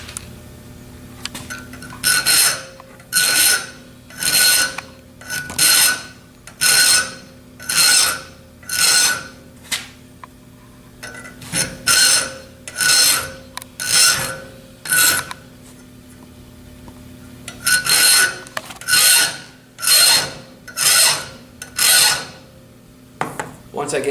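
A fine hand file rasps across a steel drill gauge clamped in a vise, in steady forward strokes grouped into runs of about eight with short pauses between, close and loud.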